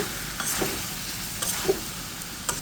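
Radish and potato curry frying in a pan while being stirred, a steady soft sizzle with faint scraping strokes of the spoon, close and without talk.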